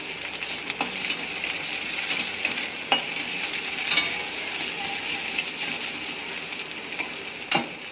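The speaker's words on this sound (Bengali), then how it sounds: "রসুন কুচিগুলো দিয়ে দিচ্ছি, এবারে পেঁয়াজগুলো" Chopped garlic and onions fry in a pan with a steady, close sizzle, broken by a few sharp scrapes and taps as they are stirred.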